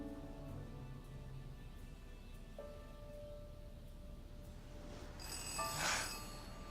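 A telephone rings indoors in a room of childhood toys, a few faint repeated bell tones followed by a brighter, louder ring near the end.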